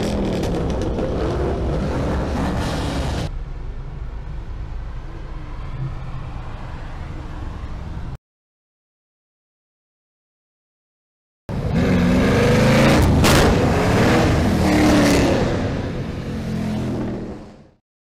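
Many Camaros at a downtown Detroit rally near Joe Louis Arena start up and rev together, a dense loud engine roar that drops out into silence midway and then returns even louder with rising revs.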